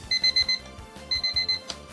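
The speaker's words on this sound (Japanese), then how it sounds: "目覚ましも鳴ったし、ちょっと待ってください。目覚まし止めますね。" An alarm clock rings in quick repeated electronic beeps, two bursts of four chirps each, loud and close over a quiet game-music background.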